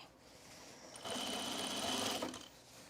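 A sewing machine stitching a skort runs in one fast, even burst of rapid needle clatter lasting about a second and a half, close and alone.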